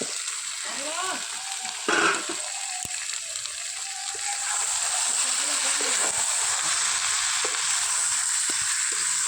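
Quail meat frying in a pan as fried potatoes are added, a steady close sizzle with a brief clatter and stirring scrapes near the start, the frying growing fuller after.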